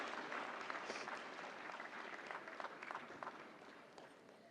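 Dense, steady applause from a large audience at the 69th National Film Awards ceremony, sustained loudly throughout with scattered individual claps standing out.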